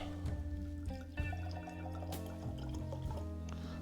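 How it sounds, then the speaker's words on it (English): Smoke Wagon bottled-in-bond rye whiskey poured from the bottle into a glass, a soft, quiet trickle with small clinks, faint against a steady background hum. "let's get this poured into the glass here"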